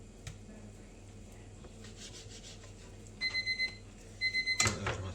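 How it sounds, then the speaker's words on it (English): A kitchen timer rings in two bursts of rapid, bright beeping pulses during preparation of Iberian-style piri piri chicken, standing out over quiet kitchen background noise. "There's my timer."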